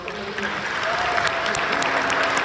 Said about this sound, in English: let's first give them a big round of applause